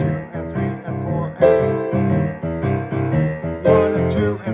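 Piano playing a swung boogie woogie pattern, a rolling left-hand bass line under repeated right-hand chords, steady and fairly loud with rhythmic accents throughout.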